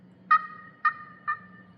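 Hand-held turkey hunting call struck softly, giving three short, clear yelps at an even pace, each fading quickly, fairly quiet and close against a faint low hum.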